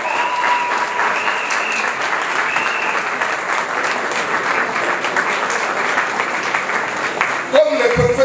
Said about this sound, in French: Donc je voudrais qu'on acclame fortement le président Alassane Ouattara.